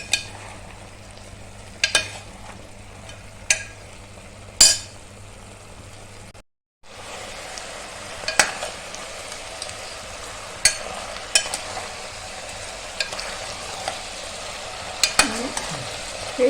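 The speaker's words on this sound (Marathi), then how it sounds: "आता हाय फ्लेमवर एक दोन मिनिटांनी चांगलं परतून घ्यायचं" Chicken stir-fried on high flame for kala chicken masala sizzles steadily, while a spoon scrapes and clinks against the pan in sharp, irregular strokes with a brief pause partway through.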